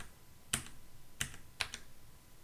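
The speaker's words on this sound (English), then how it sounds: "You can also use the arrow keys on your keyboard." Arrow keys on a computer keyboard are tapped three times at uneven intervals, crisp close clicks over faint room hiss.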